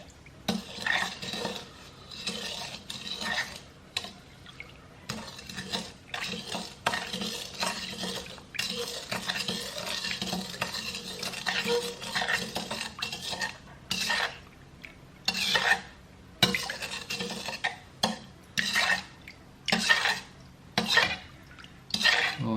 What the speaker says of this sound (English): the final thing to do is to stir the whole thing up a bit